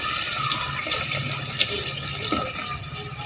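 Broth poured into a soup pot of pork giniling sotanghon soup with tofu, a steady rushing liquid pour running through the whole moment without pauses, fairly loud and close.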